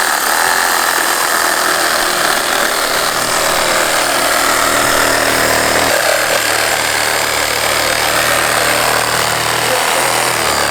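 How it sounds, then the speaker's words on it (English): A loud, continuous electric chainsaw-like saw cutting through rhino horn during dehorning roars steadily, a harsh grinding buzz with a brief dip in pitch midway before resuming. "this electrical chainsaw looking thing just goes through"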